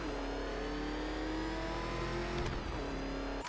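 Batmobile engine in the video game Batman Arkham Knight, a steady, loud mid-pitched engine drone held at sustained revs throughout, with a brief surge near the end; no talking.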